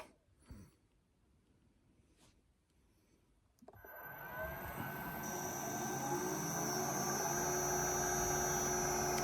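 A motor-driven shaping wheel with a variator spins up after a quiet stretch with a few knocks, building into a loud, steady hum and whine that grows fuller and holds to the end.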